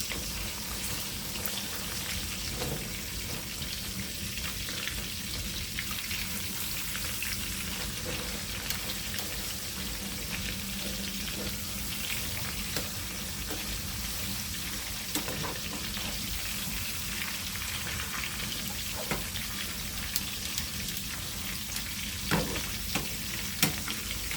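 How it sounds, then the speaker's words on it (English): Pork chops fry in a pan with a continuous dense sizzle and crackle that holds steady throughout, close and alone with no voices. "Okay, let it fry on this side."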